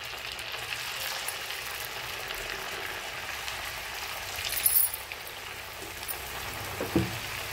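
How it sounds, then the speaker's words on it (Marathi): Barnyard millet puris frying in hot oil make a steady, soft bubbling hiss throughout, with a couple of brief louder crackles near the end; no voices. "चांगल्या कलर बदलेपर्यंत आपल्याला पुऱ्या तळून घ्यायच्या."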